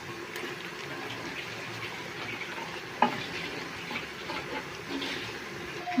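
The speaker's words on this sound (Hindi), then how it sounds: "जिसका गाइस प्याज हमारा ब्राउन हो रहा है" Onions browning in a pan for aloo gajar, a steady moderate sizzle with soft stirring scrapes and one sharp knock, close by with no talking.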